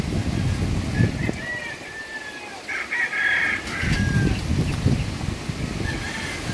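Chickens and a rooster at a storm-damaged poultry farm beside a house, after Typhoon Ulysses, cluck and crow repeatedly at moderate distance over a steady background hum.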